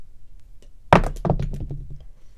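Dice tossed onto a craps table at a Hawaii casino hit the felt with one sharp clatter, then bounce and tumble in a quick run of smaller knocks before settling, close and clear, with faint room noise around.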